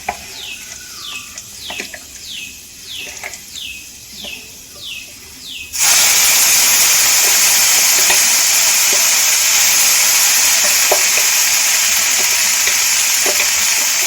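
Spoon scrapes and light crackling of nigella seeds in oil sound in a steady rhythm before ground yardlong bean paste drops into the pan. The paste sets off a sudden, loud, continuous hiss of frying that stays strong to the end.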